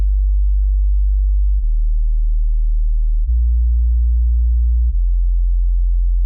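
Sub-bass synth tone from an FL Studio melodic bass remix, a pure deep sustained sine tone stepping through four held notes, loud and steady with no other sounds.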